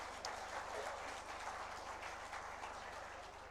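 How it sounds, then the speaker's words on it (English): Audience applause at an industry conference session on global supply chains, a steady dense wash of many hands clapping at moderate distance, holding level for several seconds before easing slightly. "A big round of applause will be the best thing to start the session"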